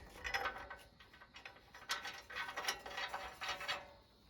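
A ratchet snugs the exhaust bolts on a Husqvarna LGTH 24V54 riding mower, giving soft quick clicking strokes in uneven runs, close but faint, with no talking.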